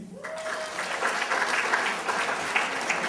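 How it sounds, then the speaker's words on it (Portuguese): Audience applause for a panelist at a games and television festival talk, clapping swelling in after a brief tone and holding steady from a moderately sized crowd, heard at medium distance. "vou pedindo aí um aplauso para cada um"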